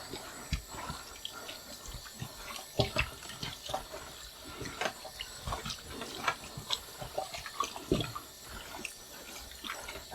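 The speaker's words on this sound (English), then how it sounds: "get it wet, and it'll wash your hands a treat" Hands being scrubbed clean under a running tap with a gritty homemade sugar scrub after brake work on a Mazda MX5 NC, steady water flow with uneven splashing and rubbing, near and fairly quiet.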